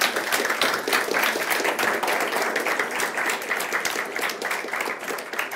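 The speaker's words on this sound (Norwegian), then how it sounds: "Applaus til Per Brevik" Dense, steady applause from a seated audience at a climate breakfast event on public buildings and roads, a loud continuous patter of many hands that holds evenly before tapering slightly at the end.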